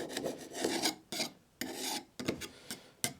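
A razor blade scrapes a rusted, seized Holley carburetor in short, rasping strokes, about six bursts separated by brief pauses, close and fairly quiet with no voices.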